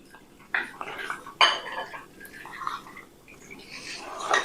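Spoonfuls of starch being scooped into a bowl with a metal spoon while making a Syrian garlic cream, giving a few soft scrapes and clinks, with one sharper clink near the start of the second, close up and quiet.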